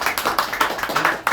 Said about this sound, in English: round of applause for Bree Damon